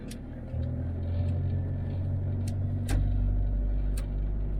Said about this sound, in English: I'll show you what I mean about the overall performance of the 300 TDI.